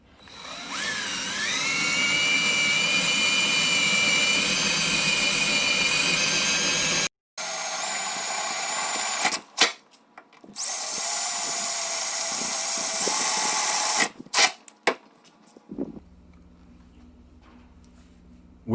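A power drill enlarging holes in the body of a Jeep Wrangler TJ, running loud and high-pitched in long sustained bursts with brief stops between them, then fading to quiet at the end.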